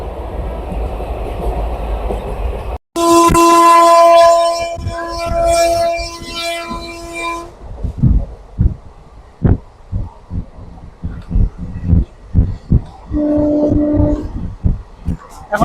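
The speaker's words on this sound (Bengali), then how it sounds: "ট্রেনের গতি বেশ উচ্চ একদম।" A passenger train runs at high speed through fog on a long journey across India, heard from on board. A loud rushing roar carries a sustained horn-like tone, then gives way to a fast, rhythmic clatter of wheels over rail joints.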